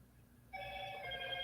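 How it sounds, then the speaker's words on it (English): A phone alert notification starts about a third of the way in, a steady multi-tone electronic ringing that holds at moderate volume to the end, with no talk over it. "that's one of the alerts on the phone"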